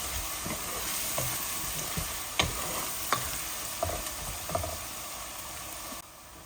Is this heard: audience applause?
no